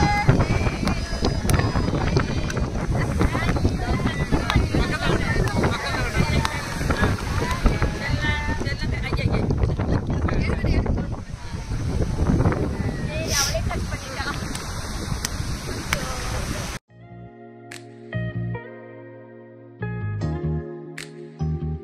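Sea waves wash onto a beach at night under moonlight while a family cuts a first-birthday cake, a steady, close rushing surf mixed with wind buffeting for most of the stretch before the noise cuts away to brief musical tones.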